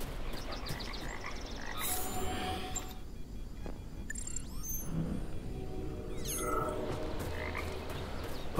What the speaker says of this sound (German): Die Frösche irritieren.